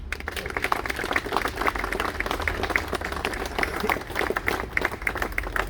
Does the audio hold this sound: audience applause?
yes